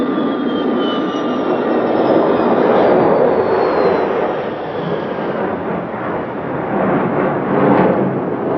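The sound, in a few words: Tupolev Tu-144 supersonic airliner passing over airfield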